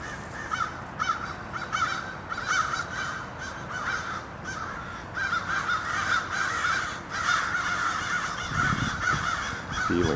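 Several crows caw outdoors in the morning in NDG as a warning while a hawk hovers nearby, with repeated harsh calls that keep coming over steady background noise.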